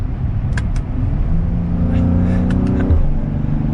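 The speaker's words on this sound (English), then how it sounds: "I love that crisp pop in between the upshifts." Mercedes-AMG GLC 43 4Matic SUV engine pulling steadily from inside the cabin, with a droning rumble that rises through gears and a few short crisp exhaust pops and crackles at the shifts.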